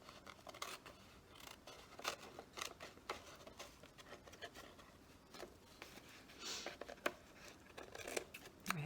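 Scissors cut paper for a journal envelope with repeated close snips and crisp slicing strokes in an uneven rhythm, quiet and without talking.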